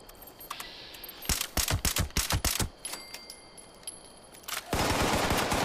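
Rapid gunfire from shooting raiders in Fallout 76 comes in a dense burst of sharp, loud shots, a brief lull, then a further run of close shots near the end.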